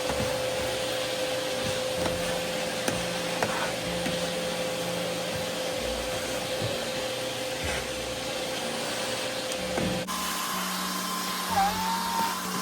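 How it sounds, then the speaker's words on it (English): A vacuum cleaner runs continuously with a steady whining hum while cleaning a ledge indoors, its tone shifting near the end as the nozzle moves. "I'm just gonna vacuum"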